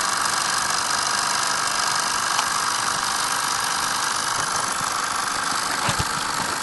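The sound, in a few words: Wilesco D 14 model steam engine running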